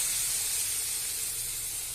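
Water hits a hot pan while cooking, giving a steady, soft hiss of steam with no other sounds.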